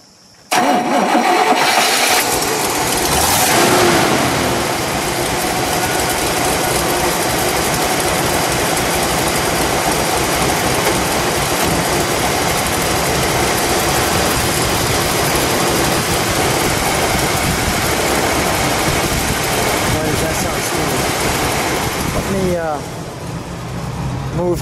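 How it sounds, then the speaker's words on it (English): A 1963 Buick Wildcat's 401 V8 cranks and catches, then settles into a steady, loud, rumbling idle through dual exhaust, with voices talking over it near the end. "let's fire it up, shall we?"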